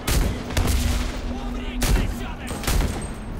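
A grenade blast in the shooter Enlisted during urban combat, heard as loud sharp bursts amid dense rattling gunfire, with several heavy impacts spread across a few seconds.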